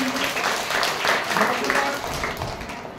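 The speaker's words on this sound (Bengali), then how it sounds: "সবাই জোরে হাততালি দাও।" Children clap together at a school Teacher's Day celebration. The dense, lively applause runs steadily for a few seconds in a room.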